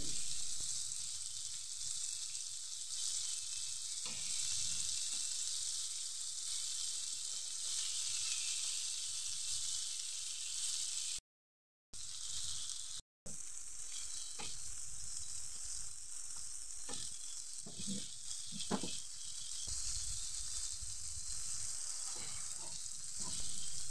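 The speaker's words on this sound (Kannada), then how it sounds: "ಈಗ ನೋಡಿ, 2 ಕಡೆ ಮೀನು ಒಳ್ಳೆದು ಫ್ರೈ ಆಗಿದೆ" Croaker fish frying in a pan with masala and oil, a steady close sizzle and crackle throughout, briefly cut by two short gaps of silence, with occasional soft pops and scrapes near the end.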